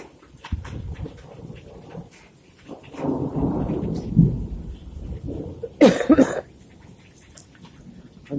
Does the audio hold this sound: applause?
no